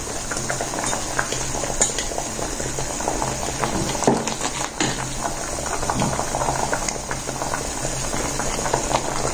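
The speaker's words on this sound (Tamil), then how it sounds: "பாருங்க தண்ணி நல்லா கொதிக்க ஆரம்பிச்சிருச்சு" Steady rolling bubbling of water with fenugreek powder at a boil in a pot, a dense continuous churn with occasional louder pops, close by and without talk.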